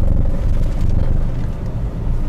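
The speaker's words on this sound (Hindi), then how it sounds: "यहाँ पे थोड़ी उखड़ खाबड़ वाली रोड है, लेकिन इस गाड़ी की सस्पेंशन इतनी अच्छी है कि आराम से निकल जाती है" A 2022 Renault Triber RXZ with a 1-litre engine drives over a rough, bumpy road. A steady, loud, low rumble of engine and road noise runs throughout, with no voices.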